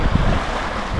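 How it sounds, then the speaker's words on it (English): Strong wind roars and buffets the microphone with a constant, heavy rushing noise, steady and close for the whole moment, outdoors on a canoe circuit at Bowron Lakes. "The wind is howling."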